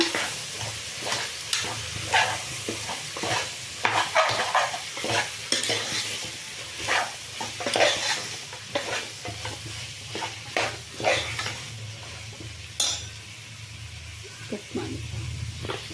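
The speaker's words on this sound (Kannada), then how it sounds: "ಹೆಚ್ಚಿಟ್ಟಿರೋ ಟೊಮೆಟೊ ಇದನ್ನು ಒಂದು ಐದು ನಿಮಿಷ ಫ್ರೈ ಮಾಡೋಣ" Chopped tomatoes with potatoes and beans fry in a pan for a soya mint pulao, steady sizzling under repeated stirring and scraping, close and fairly loud.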